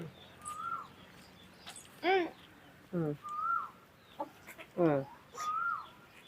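Free-range country chickens clucking and squawking in short bursts, several calls spaced across the clip over a quiet outdoor background, fairly close.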